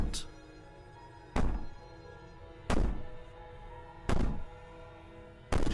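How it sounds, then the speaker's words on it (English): Banging in the video game Slay the Princess: five heavy, booming thuds at a slow, regular pace, each ringing out briefly against a low, steady hum, with no talking. "Maybe the banging and wailing will stop if you just don't pay attention to it."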